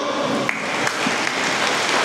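An audience claps for a student dance troupe from an oriental college at a Krishna Janmashtami celebration, a brief dense patter of many hands at steady loudness, with no talking over it.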